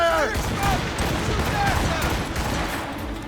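Ship cannons fire in rapid volleys during a naval battle in Assassin's Creed Rogue Remastered, booming blasts and crackling debris layered over shouted orders from the crew, loud and dense throughout.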